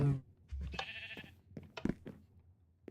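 Sheep in modded Minecraft give several short, nasal bleats in quick succession, fairly close and clear, with a possible faint voice in the background.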